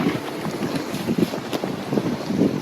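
Strong wind on a rolling sailboat carrying its main and a light wind sail, heard as a loud, steady roar of wind buffeting the microphone with low rumbles of water against the hull.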